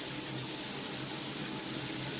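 A Nicolazzi Regal slide shower running on low pressure gives a steady, even hiss of spraying water that stays constant throughout, with no voices.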